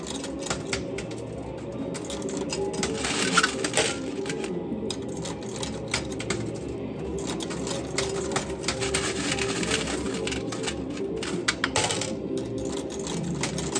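Coins clattering and dropping in a coin pusher arcade machine, a steady stream of small metallic clinks and taps over a constant mechanical hum, with occasional louder bursts.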